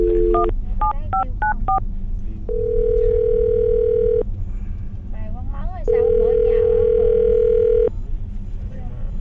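A telephone keypad beeps through a quick series of dialing tones, with two long steady tone stretches in between, heard clearly over a low hum.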